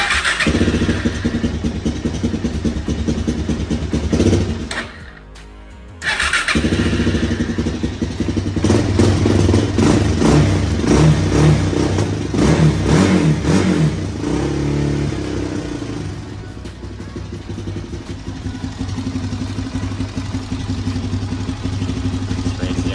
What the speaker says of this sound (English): So let's go ahead and start this up.